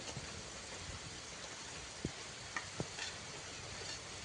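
Shrimp with turmeric, chili powder and salt frying in a pan give a faint, steady sizzle, broken by a few soft clicks as the pieces are stirred.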